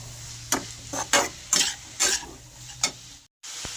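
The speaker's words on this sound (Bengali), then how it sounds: "জিরের গুঁড়োটা ভালো করে মিশিয়ে নেব" Cumin powder is stirred into prawns and banana stem frying in a pan. About six distinct scraping strokes of a spoon sound over a low sizzle, close and clear, ending with a brief silence.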